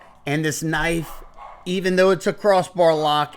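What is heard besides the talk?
dog barking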